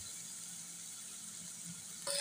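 Prawns fry in oil with turmeric powder, giving off a steady, soft hiss of sizzling throughout, with a brief clatter at the end and no one talking.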